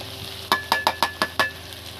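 Garlic paste and ginger paste frying in a pan for chicken do pyaza: a spoon strikes the pan in six evenly spaced metallic clinks over a faint, steady background, close by and without talk.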